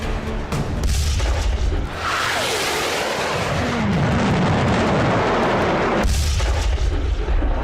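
Spike missile strikes hitting tanks: heavy booming blasts and rumbling explosions, with a loud burst near the start, a long roaring stretch through the middle and another sharp blast around six seconds.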